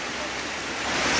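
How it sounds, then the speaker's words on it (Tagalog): Heavy rain pouring down during a typhoon flood in Sultan Kudarat, Maguindanao, a steady broadband hiss that grows slightly louder toward the end, with no voices over it. "Ang lakas na naman ng ulan."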